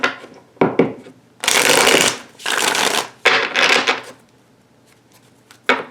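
Tarot cards are shuffled in several loud riffling bursts close by, each a dense papery flutter separated by short pauses, with a few soft taps and handling sounds between.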